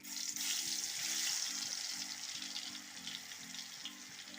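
Thin slices of jackfruit rind frying in hot oil for chips, a faint, steady bubbling hiss over a low pulsing hum, alone without talk.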